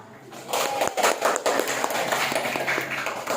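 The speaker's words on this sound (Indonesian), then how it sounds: "Silakan tepuk tangan" Fourth-grade schoolchildren in an Islamic studies class clap in a ragged, scattered burst of quick hand claps and taps, fairly close and moderately loud, with some voices among them.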